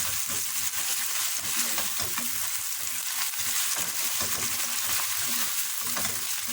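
Vegetables with tomato paste sauté in a pan, making a loud, continuous close sizzle broken by soft scraping stirs throughout.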